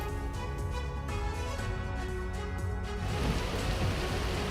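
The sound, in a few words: heavy rain falling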